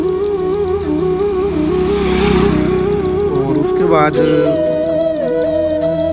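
A tractor engine runs with a steady, loud mid-pitched drone and slight rises in pitch as it is driven, while someone talks over it throughout.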